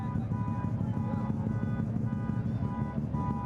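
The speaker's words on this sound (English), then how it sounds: "I hear some cars moving through here, though." Cars rolling through an Independence Day parade in Elgin produce a continuous low engine drone with a faint steady tone above it. No single vehicle passes distinctly.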